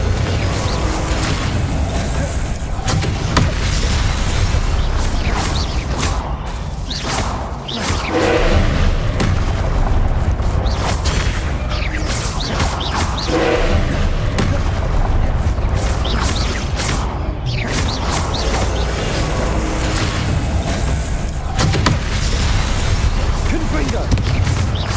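Confringo blast spells in Hogwarts Legacy fire off again and again, booming and crashing loudly amid continuous heavy combat noise with thuds and rumbles throughout.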